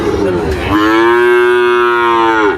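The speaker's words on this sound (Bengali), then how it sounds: "এটা অনেক সুন্দর একটা মোটা তাজা বাছুর" A calf at a cattle market lets out one long, loud, close moo that holds steady before trailing off.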